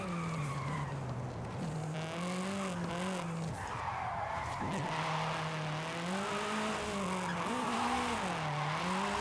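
An electric hyper drift car in Forza Horizon 5, inspired by the AE86, slides sideways with a steady tire squeal and a wavering whine as it weaves through fast corners.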